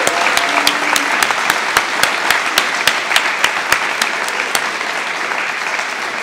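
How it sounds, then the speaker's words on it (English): Sustained applause from a large crowd at a high school graduation ceremony, with many hands clapping steadily and loudly throughout. "So I would like us to give Mr. Betts a massive big clap to say thank you."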